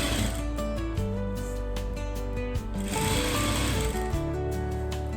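A sewing machine runs steadily while stitching the side seams of a plain blouse, its motor whirring with rapid mechanical clatter that shifts speed a few times, no voices over it.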